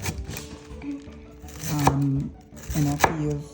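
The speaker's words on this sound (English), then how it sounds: "you slowly start making some nice clean cuts" Knife making clean cuts through rinsed green leafy vegetables on a board, a few separate chops with short pauses between them, fairly close and clear, with no talking.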